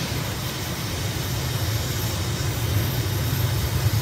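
A jet engine at full throttle in a flight simulator roars steadily with a dense, broadband rushing drone and a low rumble that builds slightly over the few seconds, with no talking.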